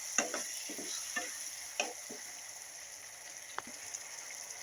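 Tamarind juice stirred into girmit masala in a pan, soft sizzling and simmering under quiet, sporadic scrapes of a spoon, faint and close.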